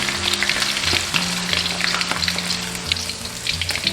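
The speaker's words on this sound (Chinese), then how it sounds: "炸至鳗鱼微微金黄" Eel fries in hot oil until lightly golden with crisp skin, giving a loud, dense, continuous crackle and sizzle full of sharp pops alongside a low steady hum.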